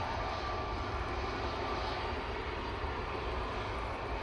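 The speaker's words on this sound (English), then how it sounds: "the Jet2 coming on. So be going off to Faro using the A320 Neo" A Jet2 Airbus A320neo on the ground at a windy Manchester Airport gives a steady, broad engine roar that fills the air evenly and holds without voices.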